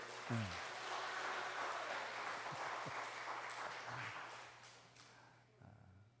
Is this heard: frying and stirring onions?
no